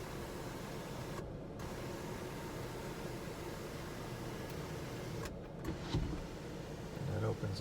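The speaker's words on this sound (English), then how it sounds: "Got the panoramic sunroof with the power shade." Power shade of the panoramic sunroof on a 2016 Jeep Grand Cherokee Limited 75th Edition running open with a steady electric motor whir, briefly pausing, then ending with faint clicks and a voice.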